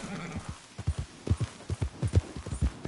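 Horse hooves clip-clopping at a steady walking rhythm in the Red Dead Redemption 2 video game, clear regular thuds close up over a low ambient bed.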